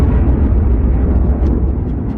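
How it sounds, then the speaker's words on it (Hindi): A huge, loud explosion rumbles with heavy low-end power and fades into a long, dark roar, evoking the cosmic blast that gave birth to the Sun. "बीच के इस भयंकर दबाव के कारण एक विशाल विस्फोट हुआ"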